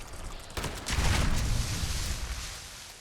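A pump-action shotgun fires in the Fallout 76 video game, one sharp blast at close range followed by a loud, rumbling decay that lingers to the end.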